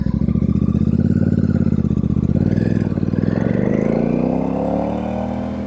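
Royal Enfield Super Meteor motorcycle fitted with AEW exhaust pipes, riding along with a loud, steady engine drone that rises in pitch as it accelerates, the exhaust note close and continuous throughout.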